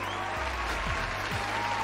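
A short applause sound effect plays back as a steady burst of crowd clapping under a low electronic hum, with no talking.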